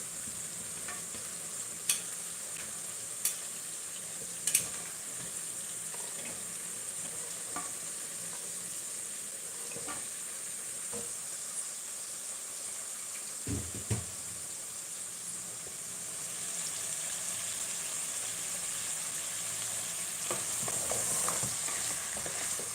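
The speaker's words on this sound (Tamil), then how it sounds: "இப்போ இது எல்லாத்தையும் நல்லா மிக்ஸ் பண்ணி விட்டுடலாம்." Chopped vegetables such as okra and cluster beans stirred in a hot pan for bisibelebath, a steady soft sizzle and hiss with occasional spoon scrapes and taps, close but fairly quiet, without talking.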